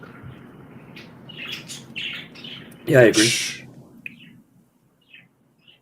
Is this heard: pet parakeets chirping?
yes